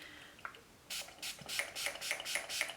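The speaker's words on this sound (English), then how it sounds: "I'm gonna pop some setting spray on the brush" Setting spray is misted onto a makeup brush in a run of about eight short, crisp hissing spritzes, close up and steady, with no talk.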